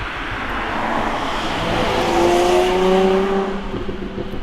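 A Jaguar F-Type sports car's engine and exhaust roaring loudly, the tone swelling and rising in pitch as it revs, then easing off toward the end, with no voices.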